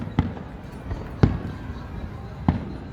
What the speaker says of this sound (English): there are the fireworks.